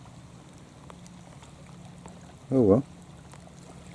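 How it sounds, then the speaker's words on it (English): Rain falls steadily during a summer thunderstorm outdoors, a constant soft hiss of drops with a person's brief exclamation cutting in near the end. "It's raining quite a bit here actually."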